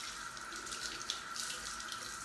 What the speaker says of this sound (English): And I'm gonna rinse this out.